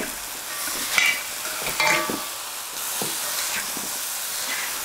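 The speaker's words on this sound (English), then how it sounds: "Add in my beef with all those yummy juices. Give it a nice toss." Beef with its juices and sauce sizzles loudly in a hot pan, a continuous hiss broken by sharp bursts and clatters as the meat is tossed, close by and with no voices.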